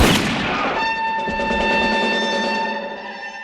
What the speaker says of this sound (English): the scene where Han Solo shoots Greedo resembles this scene from The Good, the Bad, and the Ugly.